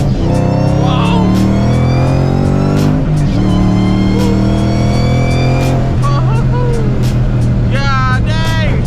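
An 800 hp Shelby GT500 Mustang accelerating hard, its engine note rising loud and close through several gears with brief dips at each shift, as people talk over it.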